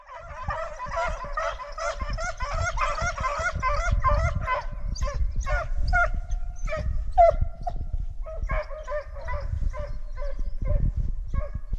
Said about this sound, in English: with the sound of these barking animals